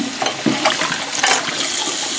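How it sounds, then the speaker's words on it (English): Tap water running over a paintbrush and a scraper after glass etching, a steady close splashing rush with irregular spatters and gurgles throughout. "I'm going to rinse that, and I'm going to go ahead and wash my paintbrush with some soap"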